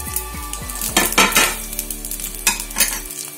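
Mustard seeds crackling and popping in hot oil for Tamil-style gooseberry rice, with sesame seeds, dried and green chillies and curry leaves, steady close sizzle under sharp spoon scrapes and stirring clatter against the pan.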